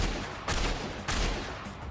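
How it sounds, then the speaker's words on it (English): Gunfire in The Darkness video game: two heavy, booming shots about half a second apart, loud and near, over a steady roar of background noise. "what the hell is all that gunshot?"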